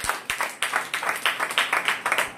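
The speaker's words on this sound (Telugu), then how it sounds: "గట్టిగా చప్పట్లు కొట్టు" A church congregation claps loudly during Sunday worship, a dense run of sharp hand claps in a steady rhythm, close and bright with no pauses.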